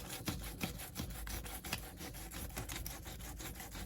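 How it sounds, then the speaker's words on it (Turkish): Quiet, rhythmic rasping strokes of fine sandpaper rubbing back and forth to smooth the rubber tire of a diecast BMW E36 M3 model, close and steady. "şu ince zımparayla da pürüzleri alıyorsunuz"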